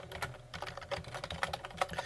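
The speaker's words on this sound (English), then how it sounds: "So I'm going to type in my value for my camera." Rapid typing on a computer keyboard while entering a camera value during Linux Motion surveillance setup, a steady run of close, crisp key clicks with no talking.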